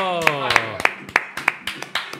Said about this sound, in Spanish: Un aplauso para... Un aplauso.